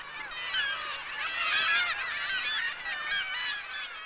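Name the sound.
kittiwake breeding colony calling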